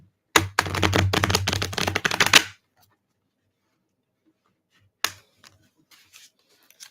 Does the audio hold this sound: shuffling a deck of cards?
yes